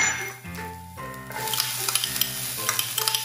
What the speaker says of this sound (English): we're just about to saute it until it turns to golden brown